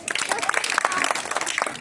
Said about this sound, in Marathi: टाळ्या वाजवा त्यांच्यासाठी जा.